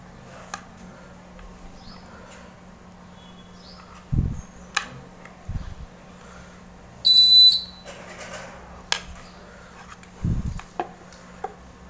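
A simple homemade continuity tester with a buzzer, checking a transformer, gives a short high buzz amid a steady low hum and scattered handling knocks; no one speaks.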